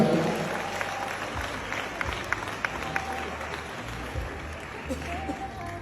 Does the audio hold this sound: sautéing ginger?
no